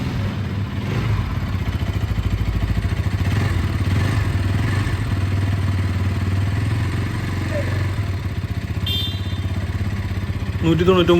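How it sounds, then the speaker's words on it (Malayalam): A 2024 Bajaj NS200 motorcycle's liquid-cooled, fuel-injected engine runs steadily with a deep, throbbing exhaust note, idling and revving slightly throughout, close and loud. "വണ്ടി ഒന്ന് സ്റ്റാർട്ട് ചെയ്ത് വാഹനത്തിൻ്റെ എക്സോസിൻ്റെ ശബ്ദം"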